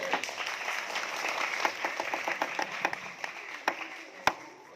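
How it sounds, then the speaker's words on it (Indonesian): Students and audience at a CCA quiz competition at Pondok Pesantren Budi Mulyo boarding school clap for a correct answer, a steady close burst of applause with a few sharper individual claps standing out toward the end. "Oke, tepuk tangan"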